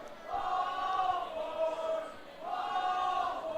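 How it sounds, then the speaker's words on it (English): A baseball crowd at Labatt Memorial Park chants "ball four" in rhythmic swells, two clear waves of voices at moderate distance rising and falling during an International Baseball League game. "the ball 4 chants are more than likely going to start."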